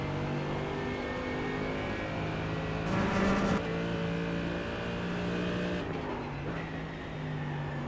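A Mercedes GT3 race car in the iRacing sim holds a steady engine drone with a sustained tonal whine, a brief burst of harsher noise around the middle and a shift in pitch late on, no talking.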